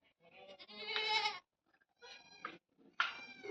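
Newborn goat kids, including a pair born the day before, bleat in three short, high, wavering cries close by in a quiet pen during winter.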